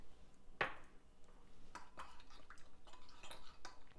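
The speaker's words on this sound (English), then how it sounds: "Stir these together." Ingredients being stirred together in a bowl for plant-based vegan carrot hot dogs, with faint clinks and scrapes of a utensil in a quiet room, including one sharper tap near the start.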